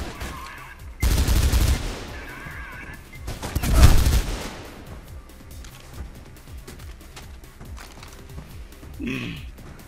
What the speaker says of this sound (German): Aber die M60 macht immer gute Dienste.